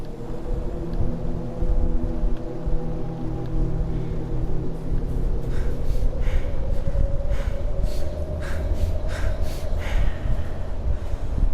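Snoring sounds in the Kholat video game rise as breathy, rhythmic rasps over a heavy, constant low rumble of wind-like ambience, growing more noticeable toward the end.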